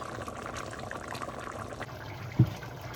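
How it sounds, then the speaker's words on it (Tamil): Quiet bubbling of a crab curry simmering in a pot at home, a low steady burble with one brief louder knock near the end. "இப்போ நண்டு குழம்பு கொதிக்கிறவு"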